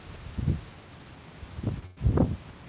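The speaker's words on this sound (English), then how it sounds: "That's really windy." Strong outdoor wind before a storm buffets the microphone in low, rumbling gusts, three bursts rising and falling over a steady background rush.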